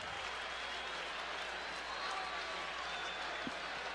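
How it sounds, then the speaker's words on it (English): A capacity crowd fills Busch Stadium on a cool evening before Game 7 of the 1982 World Series between St. Louis and Milwaukee, producing a steady distant roar of cheering and clapping beneath a broadcast hiss. "A capacity crowd here at Busch Stadium on a cool, crisp evening. And they're rooting for their Redbirds."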